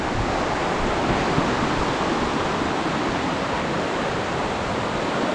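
Chet Khot waterfall in Saraburi, swollen with fast water, roars as a dense, steady broadband rush with no breaks, loud and close, with no voices.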